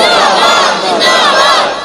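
A large religious gathering chants a slogan in unison, loud and close, a dense wall of massed voices shouting together without pause for about two seconds.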